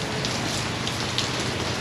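Heavy rain pours down in Kansas while someone walks under cover, a dense, loud, unbroken hiss of drops hitting surfaces nearby.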